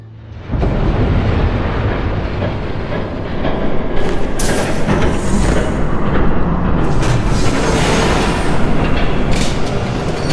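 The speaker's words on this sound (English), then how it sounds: "There's a train coming." In a Batman video game, a train approaches with a loud, continuous, heavy rumble and roar that fills the scene for about ten seconds.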